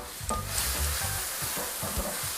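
Pickled mustard greens stir-fried in a pan give off a steady sizzle with repeated scraping and stirring knocks, close and fairly loud, no voices.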